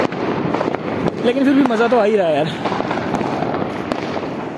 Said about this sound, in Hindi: बहुत सारे लोगों ने फैमिली के साथ मिलकर पटाखे फोड़े हैं।